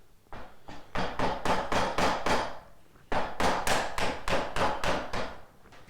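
A chisel is struck repeatedly by a mallet while cutting two slots in wood held in a vise for a vise support, two runs of sharp, evenly spaced knocks, close and fairly loud.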